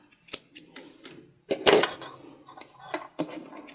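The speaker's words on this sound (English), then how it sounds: "Just do a little snip." Scissors snipping fabric for a card lanyard, a series of short crisp cuts and rustles at close range, with a longer crunchy snip in the middle.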